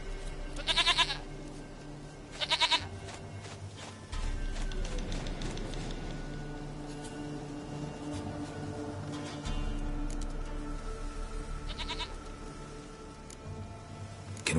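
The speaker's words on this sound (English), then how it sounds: "Goat of mine, dearest," Goat bleats in The Witcher 3 video game, several loud bursts around a steady low game ambience with soft background sounds between calls.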